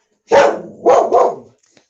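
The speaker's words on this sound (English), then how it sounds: "So I am sorry about the yapping." A dog indoors barks three times up close, loudly and sharply, with a short gap after the first bark and the last two in quick succession, then silence.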